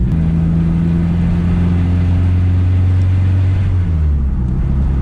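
A turbocharged boat engine swapped into an IRS S10 truck with a six-speed drones steadily in third gear, a loud, close, continuous low rumble with a slight pitch shift near the end and no talk over it.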